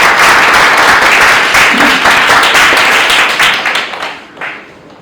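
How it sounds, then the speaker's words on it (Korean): A seminar audience applauding steadily with dense clapping, fading out toward the end. "박수 한번 쳐주시고"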